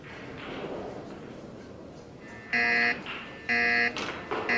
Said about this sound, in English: And the buzzer is on already.